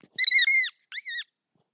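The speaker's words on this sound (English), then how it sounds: "I can get the squeaky marker too" A squeaky marker drags across a whiteboard in two sharp, loud, high squeals, a longer stroke and then a shorter one, close and with no voices.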